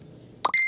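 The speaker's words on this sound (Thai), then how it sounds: "เสียงการแจ้งเตือนอ่ะ" A Messenger chat notification sounds as a short, close electronic chime: a quick soft tone followed by a bright sustained ping over faint background hiss.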